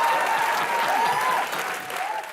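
Studio audience applause on a comedy talk show set, a thick continuous burst of clapping that holds steady and eases slightly toward the end.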